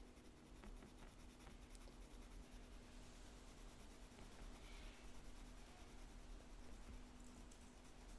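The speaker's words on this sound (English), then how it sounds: "actually going to switch to an H pencil" An H pencil shades steadily across drawing paper in a soft, continuous scratchy rasp, quiet and close.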